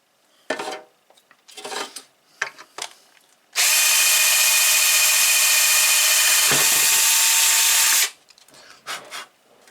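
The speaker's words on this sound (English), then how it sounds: "I'm going to put my drill on maximum speed so it cuts through it" A few clinks and handling noises, then an electric drill at maximum speed whines loudly for several seconds boring through plastic, followed by more clattering.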